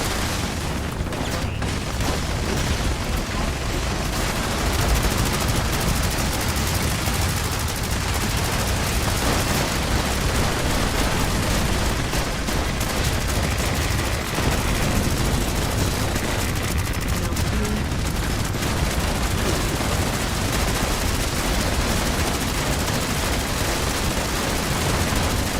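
Explosions and gunfire in the Fallout 76 video game, a dense, continuous barrage of booms and rapid shots that stays loud and unbroken from start to finish, with little room between blasts.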